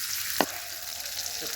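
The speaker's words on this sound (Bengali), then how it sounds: "কড়াইতে তেল নিয়ে নিব, তেলের মধ্যে দিয়ে দিব পেঁয়াজ দিয়ে সেগুলোকে একটু নাড়িয়ে চাড়িয়ে দিব।" Onions fry in oil in a wok, a steady bright sizzle close by, with a sharp scrape of a spatula stirring them early on and another softer stroke near the end.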